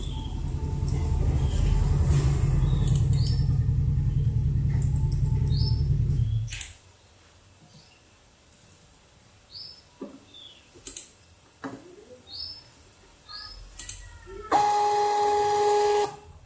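A 58mm thermal receipt printer runs a store receipt in a loud, steady mechanical whir for about six seconds. Quieter clicks and handling sounds follow, then a second short burst of printing near the end.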